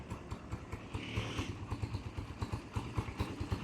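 A Kawasaki Barako 175 motorcycle engine runs close by at a steady idle, giving a rapid even low-pitched thumping pulse with some mechanical clatter.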